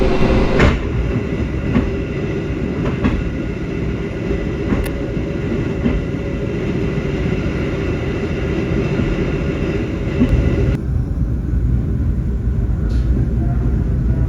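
Steady, loud rumble of a moving Sembrani express train carriage, New Image stock, on the Jakarta–Surabaya line, with faint, irregular clicks of wheels passing over rail joints.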